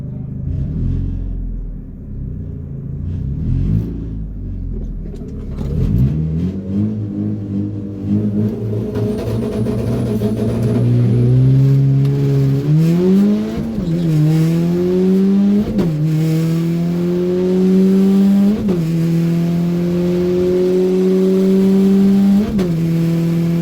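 Import cars on a drag strip make a bracket racing pass: an engine idles and rumbles, then launches and revs hard up through several gear changes, each rising whine followed by a shift, loud and close.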